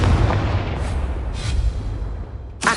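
Confringo explosion spells in the Hogwarts Legacy video game: dense, rumbling blasts and booming bursts filling the whole moment, with a sharp fresh burst near the end.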